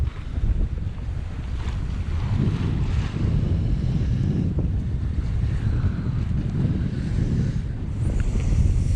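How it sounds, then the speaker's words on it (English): Wind at sea while sailing, a loud continuous roar buffeting the microphone, with low rushing water and wave sounds beneath and no voices. "The wind is easing because it's coming more from over there now."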